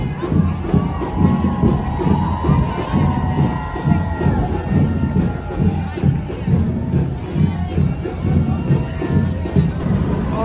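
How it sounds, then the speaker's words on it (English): Spectators lining closed streets at the New York City Marathon keep up continuous cheering and crowd noise, a dense, rhythmic roar that stays steady for the full stretch. "it's so exciting with everyone cheering and watching"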